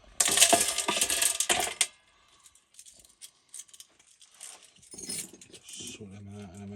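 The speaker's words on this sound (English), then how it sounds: "Let's get these screws out of here." Screws being taken out of a solar inverter with plastic casing, a burst of metallic clinking and rattling up close, then scattered small clicks and taps.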